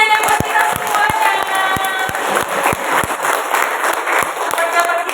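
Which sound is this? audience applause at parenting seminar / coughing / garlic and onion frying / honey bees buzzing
audience applause at parenting seminar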